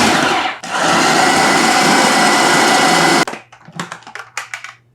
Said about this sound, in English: Give them a rough chop into the food processor.